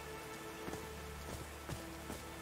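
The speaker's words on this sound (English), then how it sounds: "These drops of rain are so refreshing." Steady rain pours down in the Call of the Sea game world, a dense, even hiss with scattered soft droplet taps and faint tonal music beneath, continuous with no speech.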